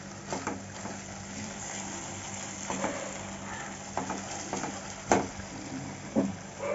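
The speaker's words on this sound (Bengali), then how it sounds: "এখন এই সময় আমি মাশরুমটা দিয়ে দেব।" Mushrooms go into hot oil and cooked-down masala in a pan, a steady close sizzle with stirring scrapes and a few sharper crackles over about seven seconds.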